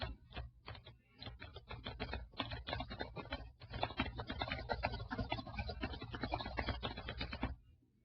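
Steady clatter of keys on a computer keyboard as new text is typed into a document, close and continuous with brief pauses, with a low hum underneath and no talking.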